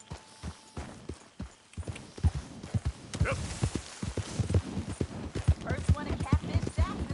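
Horse hooves clip-clop at a steady walking rhythm in Red Dead Redemption 2, close and regular, with voices talking over the footfalls.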